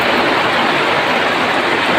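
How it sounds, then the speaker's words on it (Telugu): Heavy monsoon rain pours down in a village, a dense, loud, continuous roar of water hitting surfaces, steady throughout with no voices. "బాగా కొడుతుందండి వర్షం అయితే."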